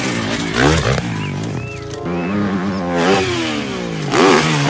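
A motorcycle engine revs repeatedly, its pitch climbing and falling in loud surges, fairly close.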